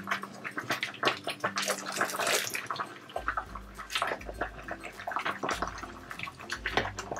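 Liquid is scooped off boiling tomatoes for tomato paste, with splashy pours and drips of liquid, wet scraping, and a low bubbling rumble that begins partway through, all fairly close, with no talking.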